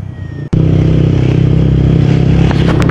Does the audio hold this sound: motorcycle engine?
yes